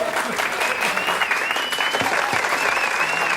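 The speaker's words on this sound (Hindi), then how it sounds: "जोरदार तालियां" Audience applause at a TV show competition, dense steady clapping filling the whole stretch at close range, with a high sustained tone and a few thumps running beneath it.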